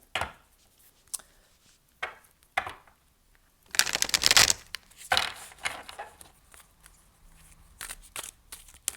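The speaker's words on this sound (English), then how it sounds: "I'm going to riffle shuffle these as well." A deck of tarot cards is riffle shuffled, with quick crisp flutters and snaps as the halves interleave, the loudest burst in the middle and lighter taps and handling around it, close and clear with no talk.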